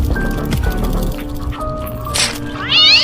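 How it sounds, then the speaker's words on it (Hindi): A cat meows in a scene from the horror film Slither, a rising, wavering cry that comes near the end over a dense, loud movie soundtrack. "जब वे चले गए एक बिल्ली को विशेष जिज्ञासा हुई।"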